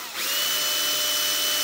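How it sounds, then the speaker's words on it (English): A power drill whirs up and runs at a steady high-pitched whine as it pre-drills holes in hard solid oak, loud and close with no talking. "So you really need to pre-drill these holes."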